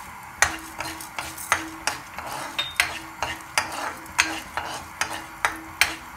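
Chana dal and urad dal roasting in a pan for curry leaf chutney, scraped and stirred with a utensil in steady rhythmic strokes, each pass a sharp scrape over a soft dry sizzle, close and alone with no talking.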